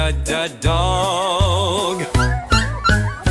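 A dog barks and yips several times over bright synthesized music in a children's ABC phonics song, the sound effect punctuating the melody with short repeated bursts near the end.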